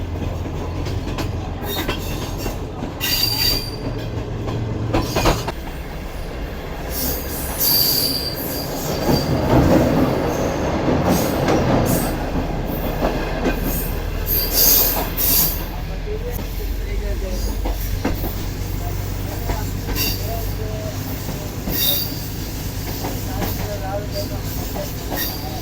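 A train hauled by a GU20 locomotive climbs into the Kirthar mountains, wheels squealing loudly against the rails over a steady rumbling roll and occasional clatter, continuous and close throughout.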